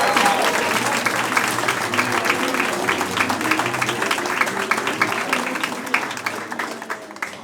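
A stand-up comedy audience gives comedian Dominykas Klajumas a loud, sustained round of applause, with many hands clapping densely and evenly throughout before easing slightly at the end.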